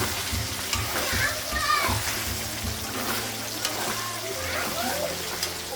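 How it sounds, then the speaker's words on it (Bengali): Meat frying in a pan with turmeric, salt and spices, a soft steady sizzle close by with light stirring clatter while someone talks over it. "একটু ভেজে নিব মাংসটা, তারপর মশলাগুলো লাগাবো।"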